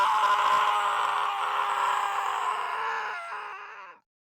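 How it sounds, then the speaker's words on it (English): A man's anguished scream, voiced for the narrator of the Steins;Gate visual novel, sustained and loud for about four seconds before cutting off abruptly, with no other voices. "As I scream, another me looks down from above."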